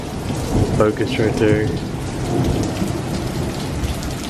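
Heavy rain pours steadily during an Easter thunderstorm in Columbus, Mississippi, with deep thunder rumbling through the downpour and someone briefly speaking near the start.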